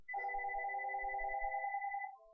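A phone rings steadily for about two seconds, a bright sustained electronic tone with soft low thumps underneath, close and fairly loud, cutting off near the end.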